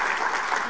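A crowd clapping steadily throughout, a dense continuous patter of many hands at moderate volume.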